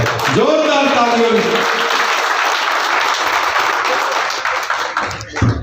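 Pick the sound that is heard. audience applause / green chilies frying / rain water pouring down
audience applause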